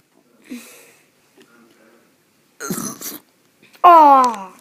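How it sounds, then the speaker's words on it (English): Several short burps by a man, spaced out with gaps of silence, the last one loud, drawn-out and croaky, close to the microphone; soft breaths and vocal noises come between them. "Burp into the camera right here."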